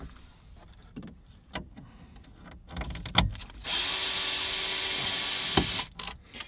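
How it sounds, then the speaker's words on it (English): A power driver whirs in a steady, sustained burst while backing screws out of the radio trim of a 2017-2018 Porsche Macan, preceded by short clicks and handling noises, close and with no talking. "now we take off the two screws on the top"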